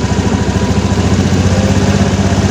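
A motorcycle engine running loud and close with a steady, even throbbing pulse and no clear rise in pitch, as the throttle is opened.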